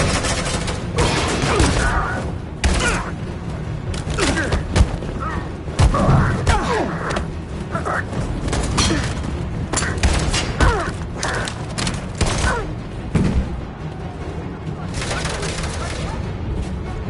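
Suppressing gunfire in Detroit: Become Human, loud dense bursts of rapid shots and heavy thuds filling the whole stretch, with some shouting mixed in.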